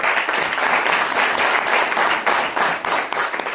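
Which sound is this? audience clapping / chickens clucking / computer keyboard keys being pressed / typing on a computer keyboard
audience clapping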